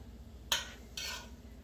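A spoon pressing an egg and sausage mixture into jalapeño peppers lined up in a baking dish, two short scraping clinks against the dish, quiet and close, with no talking.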